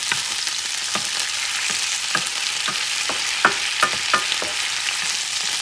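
Seafood frying in a hot pan with a few drops of soy sauce, a steady close sizzle broken by a series of sharp stirring scrapes and taps, with no talking.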